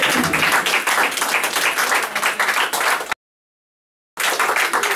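Church congregation applauding at a gospel preaching service, a dense, loud wash of many hands clapping that cuts to silence for about a second, then resumes just as strongly.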